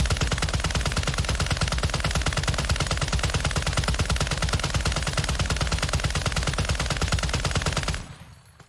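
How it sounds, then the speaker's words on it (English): An RAL light machine gun in Warzone 2 fires one long, unbroken burst of rapid, evenly spaced shots, loud and close for about eight seconds before cutting off abruptly. "this is arguably the best spec'd RAL LMG"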